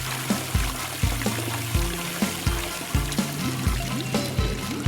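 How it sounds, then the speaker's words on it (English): Water pours and trickles steadily over a rhythmic musical beat, a continuous liquid stream under regular low thumps in a SpongeBob Bikini Bottom slime ASMR setting. "Water."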